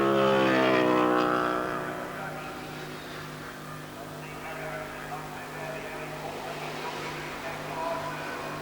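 Kawasaki racing motorcycle engine during a three-hour endurance race at Surfers Paradise, a loud rising whine near the start that fades into a steadier distant drone, with commentary over it.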